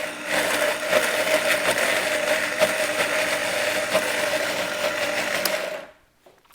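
A blender grinding macadamia nuts into a paste whirs steadily at high speed for several seconds, loud and close, then switches off and winds down to near silence.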